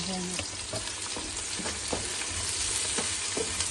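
Onions for keema hit hot oil in a pan and sizzle loudly and continuously, with occasional utensil clicks and stirring scrapes close by.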